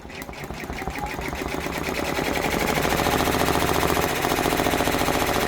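An embroidery machine runs fast, stitching an OESD freestanding quilt block of cream and green pumpkins, a rapid mechanical rattle that builds in loudness over the first seconds and then holds steady and close.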